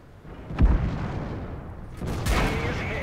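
Two heavy booms of tank cannon fire in World of Tanks, a tank-destroyer battle, the first sharp and close, the second followed by a rumbling, crackling tail.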